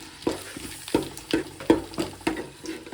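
Ginger garlic paste being added and stirred into frying tomato and onion for a fish curry, with a steady sizzle broken by repeated scraping stirs at a quick rhythm, close and fairly loud, with no talking.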